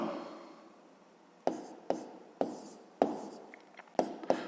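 A pen scratches numbers onto paper in several short, sharp strokes with brief pauses between them, close and clear against a faint hiss.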